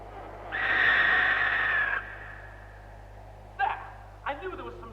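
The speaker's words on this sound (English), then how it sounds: "What you heard was the cry of the screech owl." A screech owl cry plays as a sound effect in a 1974 recording of Offenbach's opera La Grande-Duchesse de Gérolstein: a sustained, shrill wavering screech lasting about a second and a half, followed by brief spoken voices.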